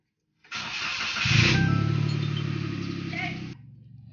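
A Toyota Wigo car engine cranks and starts, then settles into a steady idle after a brief rise in revs, loud and close for about three seconds.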